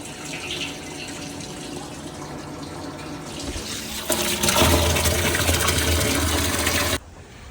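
Maple sap poured from a small bucket into a container at a syrup boiling setup, a steady splashing gush that swells louder midway and stops abruptly near the end.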